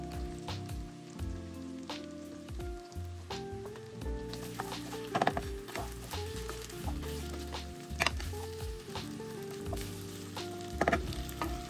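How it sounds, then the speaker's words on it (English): Potatoes sizzle and crackle in hot bacon fat in a pan, cooking for a venison sausage breakfast hash. Steady close-up frying hiss with popping spatters and occasional stirring scrapes, no voices. "Bacon fat cooking. Let's add our potatoes."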